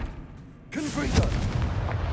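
Confringo fire spell cast in Hogwarts Legacy, a sudden booming blast that erupts after a short silence and rolls on as a loud rumbling burst, with a voice briefly speaking over it.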